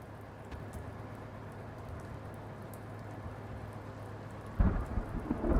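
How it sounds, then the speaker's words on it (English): Steady rain with a low thunder rumble in the Blacksad video game, then a sudden louder thunder crash near the end, sounding alone without any talking. "I think I've got to wait for the thunder to strike."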